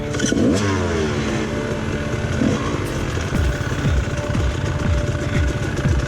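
An enduro motorcycle engine revs hard in two quick throttle blips as the rider clears a 24-inch log, rising and falling through a rough, loud, close drone with no voices.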